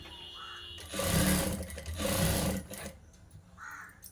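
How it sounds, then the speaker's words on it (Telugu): A sewing machine stitches a puffed blouse sleeve in two close, loud bursts of rapid needle chatter, each under a second long, then stops, with quieter machine hum between the runs. "ఇక్కడ ఒక హాఫ్ ఇంచ్ మందం దూరంకెలన్నీ కుట్టు వేయాలండి"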